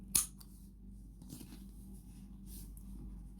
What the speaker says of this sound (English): at this point I'll cut the thread from here